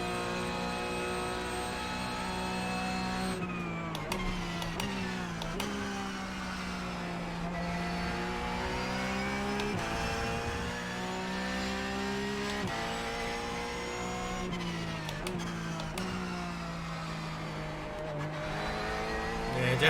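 Several race cars in the iRacing sim, Porsche GT3 machines, drone in steady harmonic engine tones that rise and dip through gear changes as one car overtakes another, a continuous loud pack sound with no talk.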